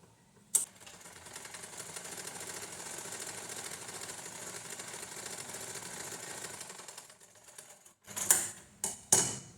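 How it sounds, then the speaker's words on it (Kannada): A sewing machine runs a steady quarter-inch seam along the front neck of a lined blouse, its whirring hum constant for several seconds before stopping. A few sharp clicks and knocks follow in the quiet. "ಇವಾಗ ನಿಧಾನಕ್ಕೆ ನಾವು ಇಲ್ಲಿ ಸ್ಟಿಚ್ ಹಾಕೋಬೇಕಾಗತ್ತೆ."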